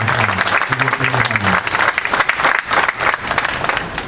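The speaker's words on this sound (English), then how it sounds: "So give all round of applause." A crowd at a neighborhood LAPD officer appreciation day in Van Nuys gives a round of applause, with dense clapping throughout and a voice speaking briefly at the start.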